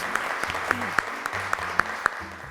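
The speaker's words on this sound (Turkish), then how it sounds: "Alkışlar gönderiyoruz." Studio audience applause on a Turkish television quiz show fills the background, mixed with regular sharp tonal hits and low musical notes.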